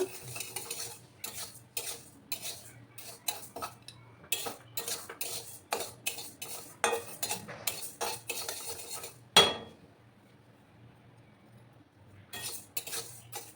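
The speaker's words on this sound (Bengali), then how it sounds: "একটু সময় নিয়ে ডালটাকে আমি ভেজে নেব" Moong dal being dry-fried and stirred in a pan for a vegetarian dal with bottle gourd greens, giving repeated scraping, clinking utensil strokes in steady bursts, close and moderately loud, with a brief pause near the end.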